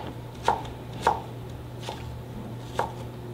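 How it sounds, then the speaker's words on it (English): A knife chops through onion on a board, four separate thuds spaced unevenly, close by with no talking. "you got to hold the onion when you slice it"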